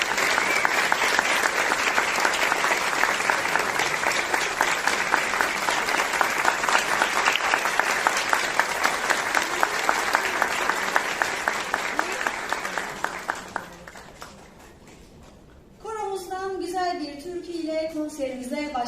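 Loud, dense audience applause at a Turkish music concert, sustained for about thirteen seconds before fading out, followed by the start of music.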